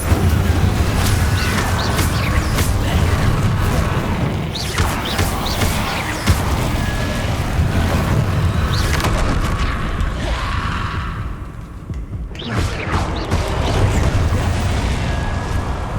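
The Incendio fire spell in Hogwarts Legacy erupts in loud roaring fiery blasts and booms within dense, continuous combat noise, with one brief lull before the onslaught resumes.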